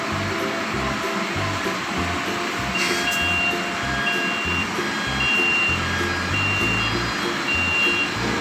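A tank truck sounds regular reversing beeps in a steady repeating rhythm over a loud, continuous engine and air-like hum.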